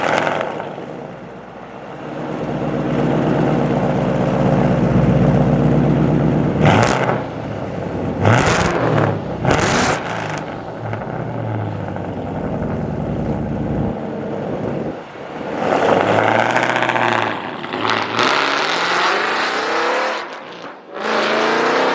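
A supercharged Ford Mustang roars through loud, close acceleration runs, engine surging and dropping between bursts, with brief gaps and gusts of wind noise.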